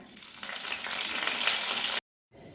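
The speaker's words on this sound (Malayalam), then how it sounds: "ഇപ്പം എണ്ണ ചൂടായിട്ടുണ്ട് അതിലേക്ക് നമുക്ക് ഒരു സ്പൂൺ കടുക് ഇട്ട് കൊടുക്കാം ഒരു നാല് മുളക് കറിവേപ്പില" Mustard seeds, four dried chillies and curry leaves hit hot oil for a fish curry, giving a loud, dense crackling sizzle for about two seconds before it cuts off abruptly, then returns faintly.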